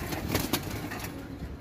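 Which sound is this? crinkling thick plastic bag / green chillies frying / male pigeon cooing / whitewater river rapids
male pigeon cooing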